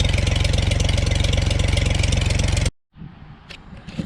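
An old piece of hay equipment's engine idles steadily in a rhythmic, loud chugging run that abruptly cuts off, leaving a quieter stretch of faint background noise and small clicks.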